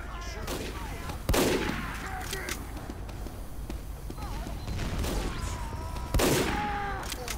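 Sniper's secondary weapon in Team Fortress 2 fires as sharp gunshot bursts, two loud cracks standing out amid continuous game noise and scattered shots, with a voice talking over the action.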